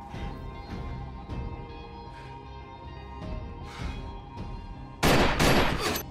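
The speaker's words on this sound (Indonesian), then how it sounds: "Setelah menembak Clay 2 kali, Jax terpaksa menembak tangan Opie agar dia tidak membunuhnya" Gunfire in a Sons of Anarchy-style TV drama scene as a man shoots another several times: repeated sharp gunshots over a tense music bed, ending in a loud, dense burst of shots.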